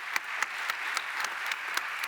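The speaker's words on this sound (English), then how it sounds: "let's give him a round of applause" An audience at a sustainability summit panel gives a round of applause, a steady wash of many clapping hands with a few sharper individual claps standing out at a regular pace, moderately close.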